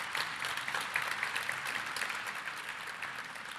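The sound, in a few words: audience applause for the Dean of the School of Medicine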